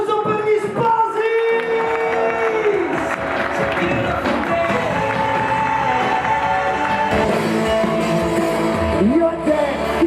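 Wedding guests break into applause and cheering for the bride and groom, a steady crowd din layered over loud ongoing music for the full stretch.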